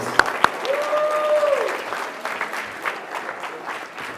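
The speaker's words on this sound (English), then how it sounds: "Let's give these guys a big round of applause for all their service and all that they do for CABA." Audience applause at an anniversary event for a business association in Tampa, a dense burst of clapping from a crowd with a brief whistle-like tone near the start, fading gradually as it continues.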